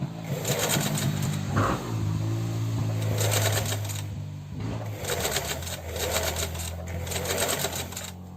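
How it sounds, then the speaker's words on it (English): A sewing machine runs close by in repeated short bursts, stitching a seam on a pair of shorts with a rapid mechanical chatter that pauses between runs. "I'm going to back stitch just to seal off the seam."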